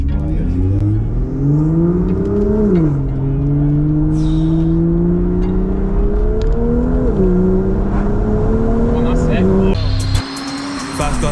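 Tuned BMW M2 accelerating hard from first gear, its engine note climbing loudly through rising revs with distinct gear-shift dips, heard up close from inside the car, then easing off near the end.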